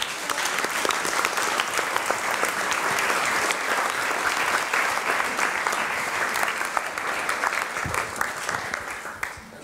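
Warm applause for a talk at a Webmontag meetup in Frankfurt fills the room, a steady crackle of many hands clapping at moderate volume that carries on for several seconds without letting up.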